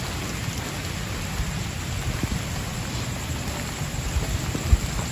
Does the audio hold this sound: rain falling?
yes